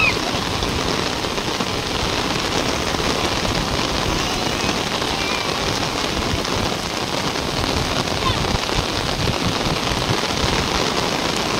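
Heavy rain pours steadily onto surfaces in a dense, even hiss that stays loud and unbroken throughout, with no clear voices above it.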